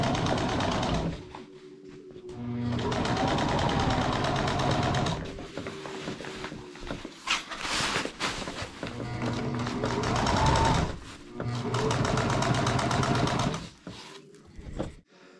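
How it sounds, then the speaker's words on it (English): A sewing machine stitching fabric whirs in long, steady runs of rapid stitching, pausing briefly between bursts, loud and close. "We did our reverse stitch by pushing this button on this particular sewing machine"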